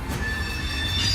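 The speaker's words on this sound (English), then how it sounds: "We even got a real train over there showing you what the sounds are like." A real train at the Boot Hill Museum in Dodge City, Kansas, rumbles with a steady low roll and a sustained high metallic wheel squeal, close and loud, with no voices.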